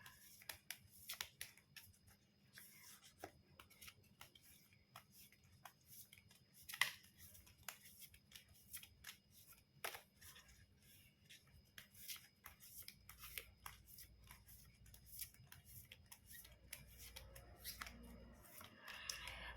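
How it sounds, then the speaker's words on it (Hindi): Tarot cards are shuffled by hand, a quiet, steady run of soft ticks, flicks and riffles that continues for about twenty seconds with no talking. "ओके, तो मैं करती हूँ कार्ड्स को शफल, फिर हम शुरू करेंगे आपकी रीडिंग।"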